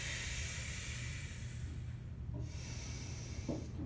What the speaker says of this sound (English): You're taking a deep breath in here.